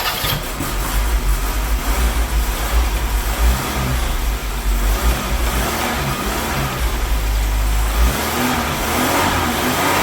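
The engine of a 1974 Citroën DS 23 IE Pallas cranks, catches and revs, the rumbling idle rising and falling in several throttle blips, loud and close.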